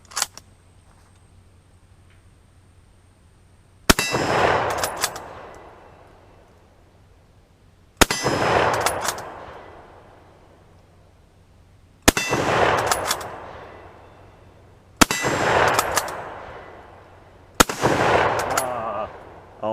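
A Kar98K bolt-action rifle fires old rusty Ethiopian surplus rounds at night: five loud, booming shots spaced several seconds apart, each ringing out with a long decaying echo across a quiet outdoor range.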